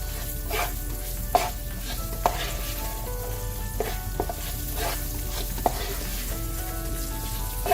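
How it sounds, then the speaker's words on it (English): Paprika and cumin fry with baby potatoes in a pan, a steady close sizzle broken by regular scraping stirs and clinks of a utensil, no voices. "we're going to fry this a little bit before adding the kale"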